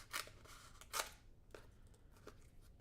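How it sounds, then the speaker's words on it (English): Scissors snipping through strips of 1/16 inch foam tape, four sharp crunchy cuts spaced about half a second apart, close and fairly quiet with no talking. "I have our 1/16 inch foam tape, and I'm just going to cut some strips of this"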